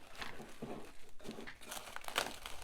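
Paper crinkles and rustles in short bursts as it is folded and pressed around a homemade house fly trap, quiet and close.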